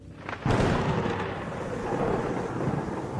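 Thunder from strong lightning during a storm breaks with a sudden loud crack, then rolls on in a long, heavy rumble.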